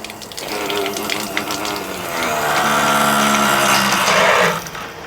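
Water sprays and hisses from a drip irrigation and microsprinkler kit running at low pressure, a rushing stream over faint mechanical ticking that swells in the middle and then cuts off.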